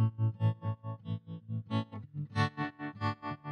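Electric guitar runs through the Cusack Music Tap-A-Whirl modulation plugin with its depth turned up, giving a loud, pulsing throb on every note, a steady tremolo-like rhythm from the instrument alone.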